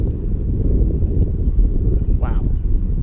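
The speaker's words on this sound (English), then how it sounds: "And a little windy." Wind buffeting a microphone outdoors, a steady low roar with gusty swells lasting a few seconds, mixed with faint motor hum.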